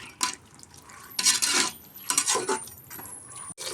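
Soaked green gram stirred in a cooking pot for palav: close metal spoon scrapes and clinks against the pot in short, uneven strokes, fairly quiet, with no talking.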